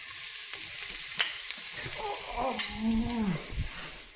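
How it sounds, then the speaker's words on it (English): Onion frying in heated olive oil for pepper pot, a soft hiss with a few stirring clicks, while a voice briefly speaks over it. "So now that the oil has heated, All right. I'm adding some onion to it."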